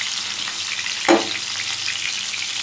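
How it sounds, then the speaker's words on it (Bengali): Pointed gourd pieces coated in salt and turmeric frying in a pan, a steady bright sizzle throughout with a single louder stirring clatter near the middle. "পটলগুলোকে আমি খুব ভালোভাবে ভেজে নেব।"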